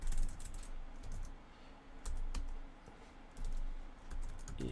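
Quick bursts of keystrokes on a computer keyboard while entering a git command, a close, clicky clatter in short runs with brief pauses between.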